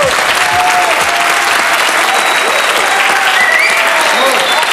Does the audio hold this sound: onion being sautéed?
no